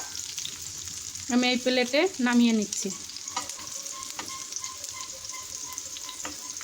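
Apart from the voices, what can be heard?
bitter gourd frying in a pan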